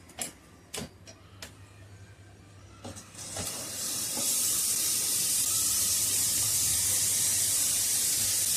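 Sindhi papad roasting over an open flame: a few sharp crackles and pops, then a loud steady hiss that swells and holds to the end.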